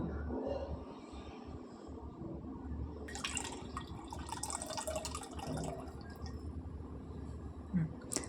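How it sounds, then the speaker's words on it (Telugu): Tamarind juice poured into traditional Ugadi pachadi, a light liquid trickle and drip that swells partway through over a faint room background. "పులుపు చింతపండు రసాన్ని వేసుకుందాం."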